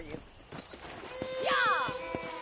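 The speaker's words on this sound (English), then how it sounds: "I picked out a fine horse for you." A horse in the Red Dead Redemption video game gives a loud, rising then falling whinny midway, with several hoof clops scattered across the clip and voices faintly underneath.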